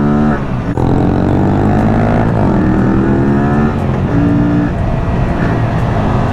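An Aprilia RS 457 motorcycle engine runs loud and close while riding in second gear, revving up and easing off in several rising and falling pulls.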